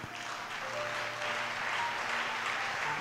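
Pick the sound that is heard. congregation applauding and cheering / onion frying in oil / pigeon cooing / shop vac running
congregation applauding and cheering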